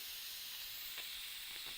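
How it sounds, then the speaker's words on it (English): Steam venting through a pressure cooker's valve during a manual quick release, a loud, steady, close hiss that holds without a break. "So we're releasing the steam."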